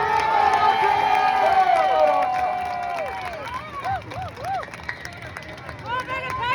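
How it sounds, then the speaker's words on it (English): Rally crowd cheering and clapping inside a Glasgow shopping centre, loud shouts and whoops with scattered applause, echoing in the hall, thinning out toward the end. "Ladies and gentlemen, big round of applause for my mate Baraka."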